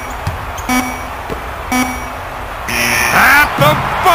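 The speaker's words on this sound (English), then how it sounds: "At the buzzer." A basketball buzzer blares in the NBA Live 2001 video game on PS1, a few short electronic honks spaced through the clip, with game-arena crowd noise rising near the end.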